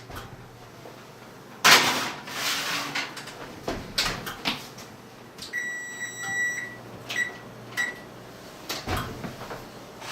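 An oven door thuds shut and cupboard clatter follows, then a short run of electronic beeps as a 325-degree oven is set to bake a cranberry almond tart, with a few more knocks and clicks afterward.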